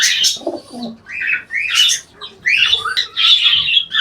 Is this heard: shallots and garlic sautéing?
no